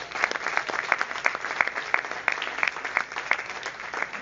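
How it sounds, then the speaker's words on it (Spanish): A church congregation at a Spanish-language sermon claps together in steady, evenly spaced beats that fill the room at a moderate level, with no talk over them. "Dale ese aplauso fuerte."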